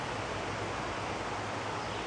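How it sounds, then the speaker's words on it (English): Water rushes over a spillway at the Mass Audubon Stony Brook sanctuary, heard as a faint, even, continuous hiss from a distance, with no other sounds. "I can hear the spillway"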